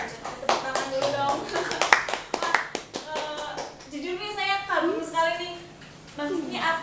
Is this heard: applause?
yes